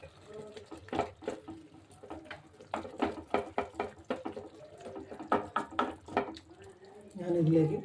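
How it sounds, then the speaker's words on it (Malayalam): Water is poured into a pot of beef curry being cooked with half a kilo of beef. Faint clinks and scrapes lead into a brief splashing pour near the end. "ഞാനിതിലേക്ക് കുറച്ച് വെള്ളം ആഡ് ചെയ്ത് കൊടുക്കുകയാണ്"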